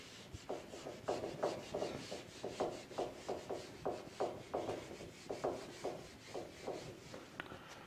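Rhythmic back-and-forth rubbing as writing is wiped off a board, roughly a dozen steady strokes, quiet and close with no talking.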